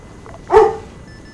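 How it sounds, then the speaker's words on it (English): A single sharp dog bark over a military radio channel during a video game mission, clipped and mid-range with a brief radio-filtered quality, standing alone against a quiet background hiss. "I was going to take that dog bark as an affirmative."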